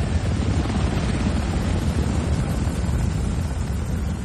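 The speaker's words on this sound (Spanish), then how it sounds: "Fijaos en ese helicóptero de la televisión. No deja de sobrevolarnos." Television news helicopter circling low overhead, a steady loud rotor drone with heavy low-end rumble and some wind buffeting, continuous throughout.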